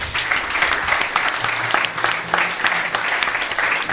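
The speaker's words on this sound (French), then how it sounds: "On peut applaudir cette histoire." An audience claps for a story told at a live tech talk show, with dense, steady applause lasting throughout, fairly loud and close, with no voices on top.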